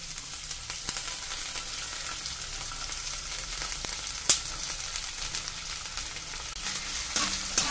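Urad dal frying and being stirred in a hot pan: a steady, dense sizzle with a few sharp scrapes and clicks of the spoon, close and continuous with no talking.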